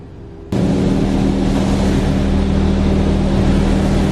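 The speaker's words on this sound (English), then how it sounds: "when the massive amount of water goes over the top, it makes me feel like I'm underwater" An automatic car wash suddenly starts blasting water over a car, a loud, steady roaring spray beginning abruptly after a quiet moment and continuing without let-up, heard from inside the vehicle.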